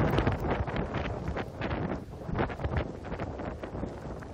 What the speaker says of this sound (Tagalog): Malakas at tuloy-tuloy ang buhos ng ulan na sinasabayan ng pabugso-bugsong hangin.